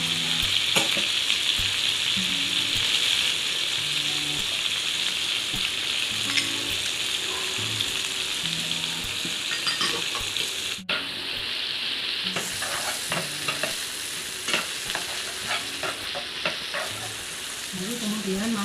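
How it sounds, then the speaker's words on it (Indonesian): Mashed garlic and spring onion fry in a pan with a steady, loud sizzle and crackle, stirred now and then, close up and continuous throughout. "masukkan bawang putih yang sudah dihaluskan tadi. Tambahkan bawang daunnya."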